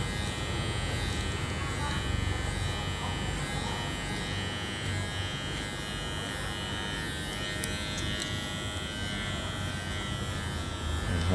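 An electric hair clipper set to a number-one guard buzzes continuously and close while cutting a man's hair, steady throughout with a faint voice beneath.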